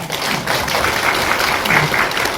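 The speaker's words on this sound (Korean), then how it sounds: "박수 한번 주십시오" Audience applause at a regional panel discussion on rural population decline, a close, busy patter of many hands that holds steady throughout with some murmuring underneath.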